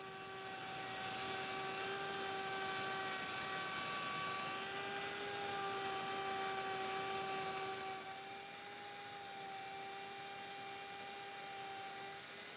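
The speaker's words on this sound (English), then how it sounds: "make one smooth cut from left to right, keeping the router base up against the plywood fence" A router trims a plywood jig base along a plywood fence on a workbench, a loud steady high-pitched whine held for about twelve seconds that eases slightly in tone partway through, no talk.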